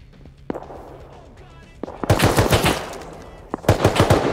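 Gunfire in the video game Rust: a couple of isolated shots, then two loud close bursts of rapid automatic fire, with faint voices in the background.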